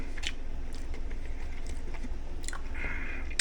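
Close-up crunchy chewing of bacon, with repeated crisp bites and mouth sounds over a low background hum, no talking.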